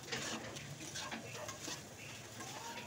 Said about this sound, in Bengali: তো একটু নাড়াচাড়া করে মিশিয়ে নিচ্ছি